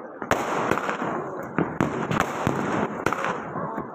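Diwali fireworks shots going off nearby: a run of sharp, loud bangs at irregular intervals, about eight in four seconds, over a continuous crackling rumble.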